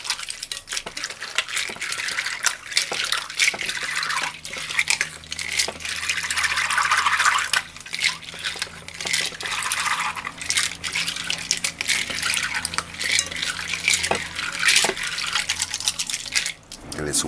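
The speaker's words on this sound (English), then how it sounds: "First thing first, rinse the beans." Beans being rinsed by hand in water with a splash of white vinegar, giving a steady close sloshing and swishing that continues throughout with small clinks and splashes.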